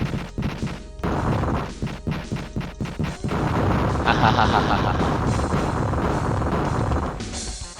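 Heavy weapons fire in the classic mecha video game Armored Trooper VOTOMS, a fast run of loud repeated bursts that swells into a sustained roaring barrage of explosions, all close and dense.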